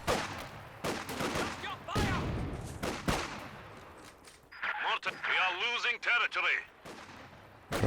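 Artillery and gunfire from a Company of Heroes 2 battle boom in several heavy bursts, mixed with a voice that talks over the fighting throughout.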